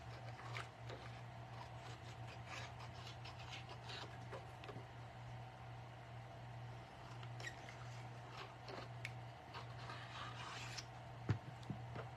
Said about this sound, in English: then I'll go around and sand it